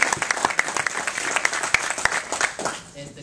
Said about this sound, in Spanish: También damos un aplauso aquí al compañero Jerome.